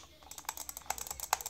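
Rapid butterfly clicking on an M241 Black gaming mouse, a quick, uneven flurry of sharp, close plastic clicks with no talking.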